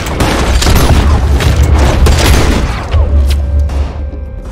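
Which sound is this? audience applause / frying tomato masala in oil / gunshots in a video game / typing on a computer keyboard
gunshots in a video game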